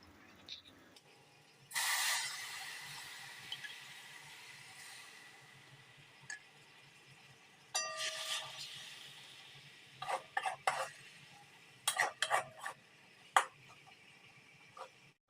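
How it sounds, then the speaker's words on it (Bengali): Mutton keema being stir-fried with mutton stock in a pan, heard as a quiet steady hiss broken by a handful of sharp scraping and clattering bursts from a spoon against the pan, irregularly spaced. "এবার কিমাটায় আমি মাটন স্টক দিয়ে কষে নেবো"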